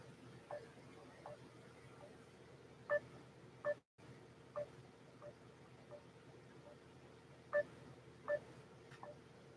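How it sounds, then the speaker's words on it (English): Outgoing Facebook call ringing from a phone, a repeating pattern of short electronic tone bursts in pairs over a steady low background hum, fairly faint and heard alone. "Let me call Mark real quick on Facebook"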